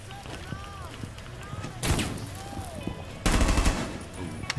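Gunfire in a ranked online shooter match: rapid automatic bursts and a heavy blast at close range, layered with game effects, while players talk over the action.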